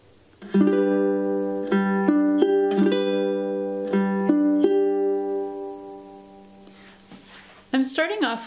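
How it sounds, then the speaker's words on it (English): Ukulele finger picking pattern for a song, a down strum followed by plucked notes in a slow steady rhythm, close and clear, ending with a brief voice at the close. "Our second finger picking pattern sounds like this."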